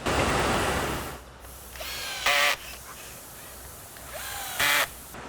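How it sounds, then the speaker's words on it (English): A power driver sets screws into the trim rings of padding on a SleepSafer tall bed closed extension. Two short, loud whirring bursts are separated by quieter handling noise. "We'll put our screws in."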